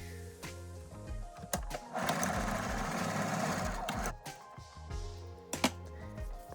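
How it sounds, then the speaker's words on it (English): A sewing machine stitches a quarter-inch seam in velvet ribbon, its rapid mechanical whir running steadily for a couple of seconds between short start-stop bursts and clicks, close and moderately loud. "sew another 1/4 inch seam"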